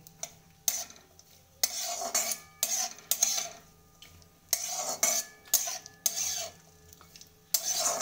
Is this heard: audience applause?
no